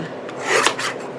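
A paper trimmer blade slices through paper in one brief, close, rasping swipe lasting under a second, with no other sound.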